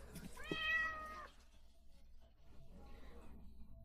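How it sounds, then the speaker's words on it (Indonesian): A ginger cat about two years old gives one clear, drawn-out meow near the start, close and fairly loud, followed by quiet low rustling. "Itu kucing oren."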